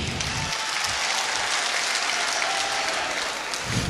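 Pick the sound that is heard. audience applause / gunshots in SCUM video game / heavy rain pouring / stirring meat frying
audience applause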